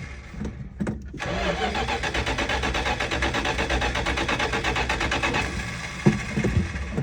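A 1967 Dodge Polara convertible's starter cranks the engine in a fast, rhythmic chugging run of about four seconds without catching. Brief clicks come before it, and faint knocks follow once it stops.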